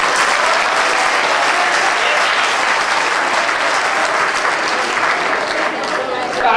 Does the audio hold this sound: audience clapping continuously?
yes